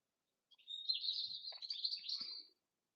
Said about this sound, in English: the birdsong can send you to heaven on earth